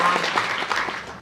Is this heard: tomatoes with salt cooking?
no